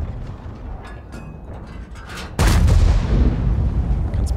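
A tank cannon fires in World of Tanks from an Object 780. After quieter mechanical clatter, one sudden loud boom hits and then rolls on as a long, heavy rumble.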